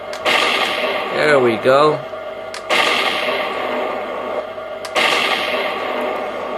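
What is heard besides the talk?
cannon smoke and flash unit firing shots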